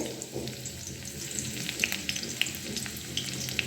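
Chopped garlic sizzles steadily in hot oil as a greens and fish-oil dish is cooked, a close, even crackle with a few sharper pops and no talking.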